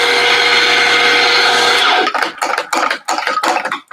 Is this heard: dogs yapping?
no